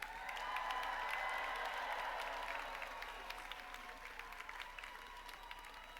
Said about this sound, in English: Please stand and give them a big round of applause.